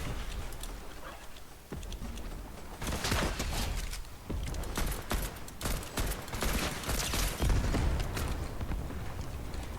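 Flare gun shots in Fortnite, a steady stream of sharp popping blasts and crackles layered over dense game noise, loud and continuous throughout with no talk.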